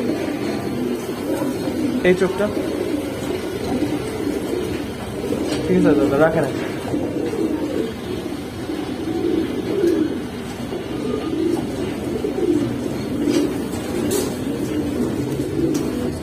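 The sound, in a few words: pigeons cooing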